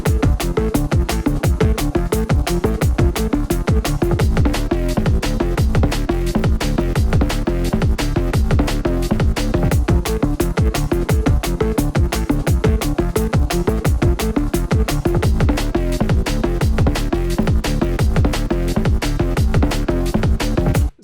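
Drum and bass bass-line loop made on a Current 2.0 synth, with heavy, dense low bass under rapid, tightly repeating drum hits; loud, continuous and driving, with no talking.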